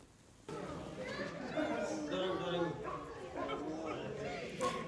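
A dog at a zoo in Oman gives a few yips and barks amid a busy crowd of chattering voices and children, the animal sounds mixed into the general noise rather than standing alone.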